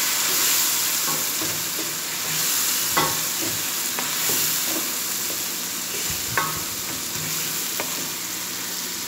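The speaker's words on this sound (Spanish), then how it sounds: "Tratamos de freír todo." Seasoned chicken, with pepper and chili, fries in a pan with a loud, steady hiss and sizzle, broken by occasional sharp pops and the scrape of stirring; nobody talks.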